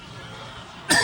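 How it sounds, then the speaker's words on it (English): A single short throat-clearing cough bursts out near and loud at the very end, following a second of quiet room tone. "sorry about the cough"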